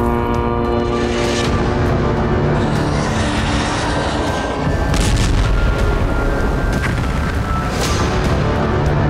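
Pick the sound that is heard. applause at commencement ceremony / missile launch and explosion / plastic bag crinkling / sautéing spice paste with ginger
missile launch and explosion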